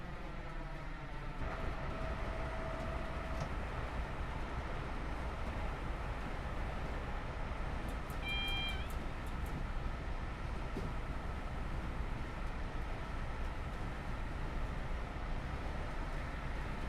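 AP411 electric train running in Train Simulator 2021, a steady continuous rumble of wheels and traction noise with a short chime-like tone partway through, heard alone without talk.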